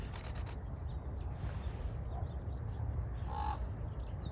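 Common ravens croak in central Texas hill country, with a couple of distant, brief calls standing out faintly over a steady wash of background noise and other birds.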